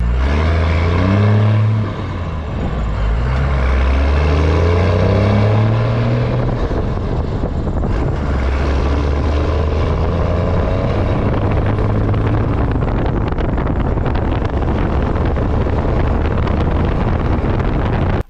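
A diesel truck with a P-pump engine runs close by, a loud rumbling drone with stepped revs in the first seconds, then steady heavy running with wind buffeting the microphone.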